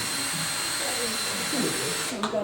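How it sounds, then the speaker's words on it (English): A blunt power drill runs in reverse during a bonsai demonstration, its thin whine steady beneath someone talking before it cuts off near the end. "It's a pretty blunt drill"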